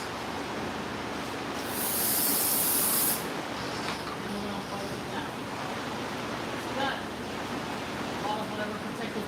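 A loud, hissing burst of spray from a can of brake cleaner lasting about a second and a half, followed by quieter background noise and faint movement.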